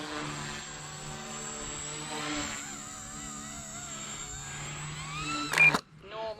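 An RC helicopter flies in stunt mode close by, its rotor and motor holding a steady buzzing whine with shifting pitch before a sudden loud surge and a quick cutoff, while a voice talks over it.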